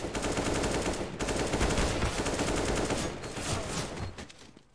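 Rapid automatic gunfire in Counter-Strike crackles in dense, sustained bursts, loud and close, with a brief pause and continued shooting that tapers off near the end.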